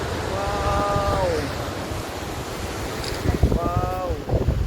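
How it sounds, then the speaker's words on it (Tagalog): Big, rough ocean waves crashing on a windy shore in Ilocos, a continuous roar with heavy wind buffeting the microphone, as a voice speaks briefly and a louder surge of surf comes near the end. "Grabe, ang lalaki ng alon."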